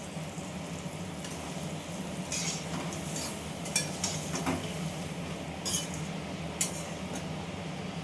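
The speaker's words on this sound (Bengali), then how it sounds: "এবার মশলাটা আমি কষিয়ে নেব।" Spice paste with turmeric and a splash of water is stirred in a pan at home, soft scraping and low bubbling broken by occasional light clinks of a spoon against the pan, with no talk.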